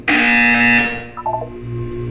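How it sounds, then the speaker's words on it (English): A loud electronic buzzer sounds once in the video game Portal 2, a harsh sustained tone lasting nearly a second before cutting off, followed by quieter game ambience. "You will hear a buzzer."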